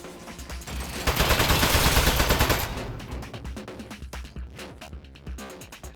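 An automated turret in Portal 2 sprays rapid gunfire, a dense, loud rattling burst that swells for a second or two, then gives way to scattered clanks and softer noises.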